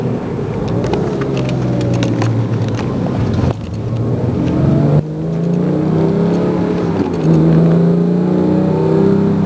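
A Porsche 911 GT3 (2005) engine revs loudly and steadily, its pitch climbing and dropping through rising sweeps, with two brief dips in the roar.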